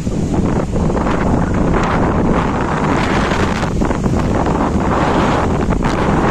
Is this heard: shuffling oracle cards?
no